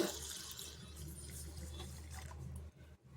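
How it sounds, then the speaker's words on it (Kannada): Water pours steadily into rice flour in a home kitchen while moong dal rotti dough is prepared, a faint, even hiss for under three seconds before it stops. "ಈಗ ಎರಡು ಬಟ್ಲು ಅಕ್ಕಿ ಹಿಟ್ಟಿಗೆ ನಾಲ್ಕು ಬಟ್ಲು ನೀರು ಹಾಕ್ಕೊಳ್ತಾ ಇದ್ದೀನಿ"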